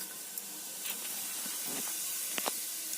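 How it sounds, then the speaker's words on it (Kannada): Cumin seeds sizzling in hot oil in a home kitchen during festival cooking. A steady, even high hiss holds throughout, with a few faint crackles and pops near the end and no voices. "ಎಣ್ಣೆ ಬಿಸಿಯಾಗಿದೆ. ಈಗ ನಾನು ಜೀರಿಗೆಯನ್ನು ಹಾಕ್ತಾ ಇದ್ದೀನಿ"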